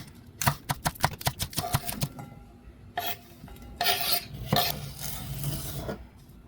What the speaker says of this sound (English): Let's start by chopping the spring onions into small pieces.